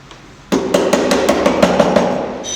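A chisel is struck into timber to cut a hinge recess for a door, with about ten sharp, evenly spaced hammer blows ringing out close and loud after a short quiet start.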